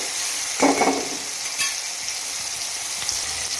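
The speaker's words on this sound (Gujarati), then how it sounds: "આ રીતના આપણે એને જ્યાં સુધી આપણા ટામેટા ના ઓગળે ત્યાં સુધીને સરસ સાંતળી લેવાના છે" Chopped tomatoes sauté in a hot pan for a green onion curry, giving a steady, fairly loud sizzle with a short burst of stirring scrapes near the start and a few light taps, close up and without speech.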